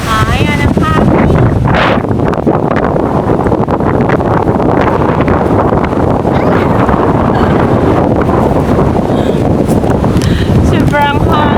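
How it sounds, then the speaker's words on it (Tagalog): Strong, continuous wind buffets the microphone in an outdoor park, a dense roaring rush that persists throughout with brief voices over it. "Ayan ang hangin."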